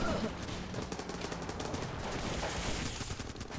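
Continuous rapid gunfire in the shooter game Running With Rifles, a steady dense crackle of rifle shots filling the clip at moderate level, with faint voice activity underneath.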